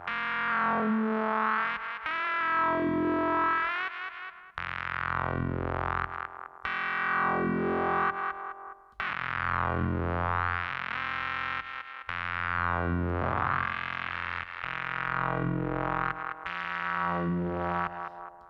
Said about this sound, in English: even the slight change of FM completely transforms the sound